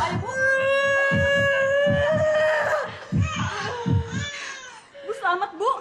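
A newborn baby girl cries just after delivery, a loud sustained wail with rhythmic sobbing pulses that breaks into shorter cries, with adult voices speaking over the end.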